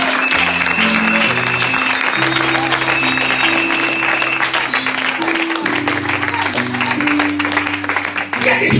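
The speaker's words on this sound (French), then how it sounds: "On acclame le Seigneur." A church congregation applauding together, loud and sustained close-up clapping that runs the whole time with a steady musical drone beneath it.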